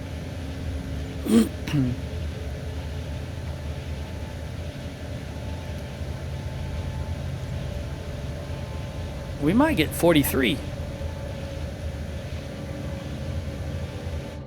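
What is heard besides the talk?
machinery noise in a video game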